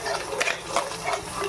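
Coarsely pounded gongura leaves are stirred in hot oil for Andhra pachadi, giving soft scraping strokes in a loose rhythm over a faint sizzle, quiet and close, with no talking.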